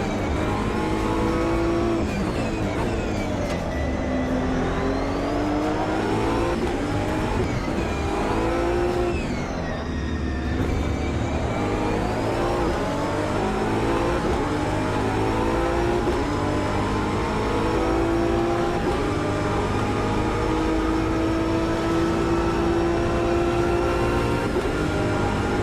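A Ferrari F430 race car engine in a racing video game roars loudly and continuously for the whole stretch, its pitch sweeping up and down through gear changes and repeated revving.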